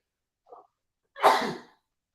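A single sharp sneeze bursts out after a brief soft intake of breath, close and loud, with silence around it.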